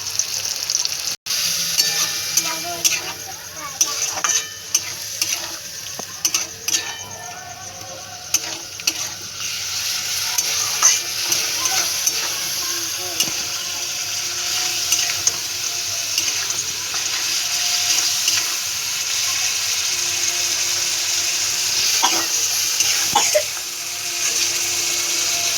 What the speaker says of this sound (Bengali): মশলাটাকে ভালো করে কষিয়ে নেওয়া হচ্ছে, যতক্ষণ না তেলটা ভালো করে ছাড়ছে মশলাটাকে ভালো করে কষিয়ে নিতে হবে।